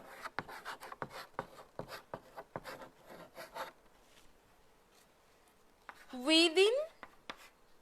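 Handwriting during a Higher Secondary English lesson, rapid scratchy pen strokes and taps that come in bursts, with a teacher's voice speaking briefly over them.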